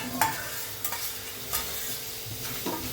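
Ginger garlic paste fries with tomato and shallots in a pan for chicken curry, with a soft sizzle broken by several scraping stirs of a spoon against the pan.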